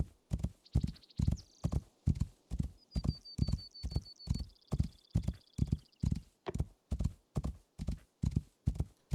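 Steady, regular horse hoofbeats in a video game clip-clop close by at an even walking pace, with a couple of high whistling tones drifting over them.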